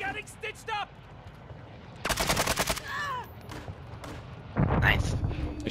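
Gunfire in the Call of Duty DMZ video game on Ashika Island: a sharp automatic burst rattles out mid-clip after a few scattered shots, with players talking over it.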